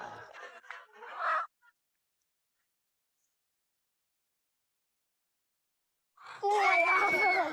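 A chicken clucks and squawks in a short loud burst near the end, after a brief stretch of voices and a long silence.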